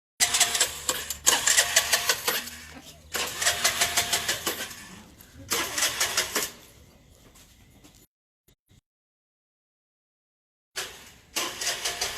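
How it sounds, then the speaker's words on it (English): A scooter engine by the Sicilian coast cranks and sputters in several rough bursts, then drops to silence before catching again, loud and close. "Turn the scooter on, please."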